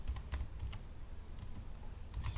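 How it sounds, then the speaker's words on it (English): Quiet, irregular tapping of keys on a computer keyboard, a string of soft clicks in uneven bursts. "Start typing."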